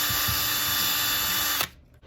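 A power drill bores into a brake fluid reservoir cap to widen the hole for a hose, a loud, steady close-up whine that cuts off abruptly near the end, leaving near silence.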